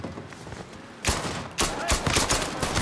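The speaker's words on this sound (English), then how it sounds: "Is he shooting a gun?" Rapid bursts of gunfire crackle in Mafia 3, building from scattered shots into loud, repeated volleys that overlap one another.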